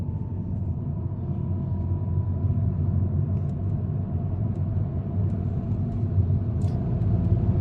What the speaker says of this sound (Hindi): ये देखिए ये तीसरे गियर पे लगा हुआ है गाड़ी